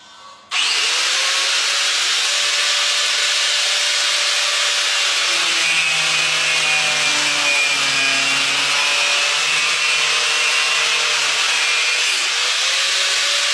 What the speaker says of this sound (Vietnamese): tiếp theo Nam sẽ cưa đến phần cán vợt. Cưa luôn, cho bên trong gỗ sồi Indo nó như nào luôn.